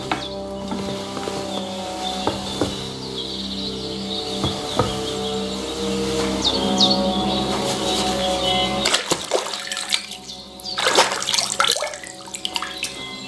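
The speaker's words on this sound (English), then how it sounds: "There's a water trough in front of the hut. Have a wash there, so you're fit to face the world." Splashing and sloshing water as a character washes at a wooden water trough outside a hut in medieval Bohemia in Kingdom Come Deliverance 2, with a steady watery bed, clearer splashes and scoops near the end over background game ambience.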